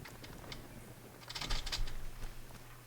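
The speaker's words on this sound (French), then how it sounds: "Je sais pas pourquoi t'éclates ton clavier." Rapid, clattering keystrokes on a computer keyboard, growing louder and harder in the middle, with no talking.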